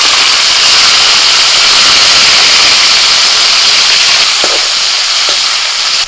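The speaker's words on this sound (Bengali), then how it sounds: "ফোড়ন হয়ে গেছে, এবার দিয়ে দিচ্ছি টমেটো কুচি।" Chopped tomato hits hot oil tempered with cardamom, cinnamon, cloves, whole cumin and bay leaf, giving a loud, steady, close sizzle and hiss that holds throughout without pause.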